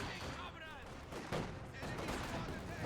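MG-42 machine gun fire and other gunfire ring out in a Company of Heroes 2 match, a steady loud barrage of rapid bursts under a commentator's voice.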